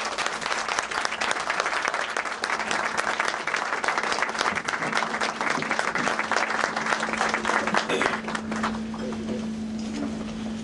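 Audience in the House of Lords, London, applauding to welcome Punjab Chief Minister Shahbaz Sharif, a long, loud, continuous round of clapping from a crowded hall that thins near the end as a steady hum emerges.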